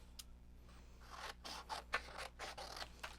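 Scissors snipping through paper for pet-themed crafting, a series of quick, close crisp cuts with short pauses between, quiet and alone with no talking.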